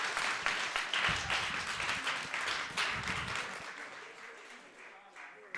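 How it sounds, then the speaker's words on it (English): A crowd at an Overwatch 2 LAN tournament applauds steadily with dense, continuous clapping and some cheering, gradually thinning toward the end. "Can we get one round of applause for all the teams who came out and put on amazing matches?"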